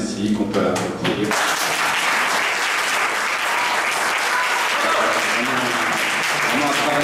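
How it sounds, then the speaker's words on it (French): Loud, sustained audience applause at a short-film award ceremony rises quickly after a brief stretch of voices, then continues as a dense, even roar of clapping. "qu'on peut applaudir"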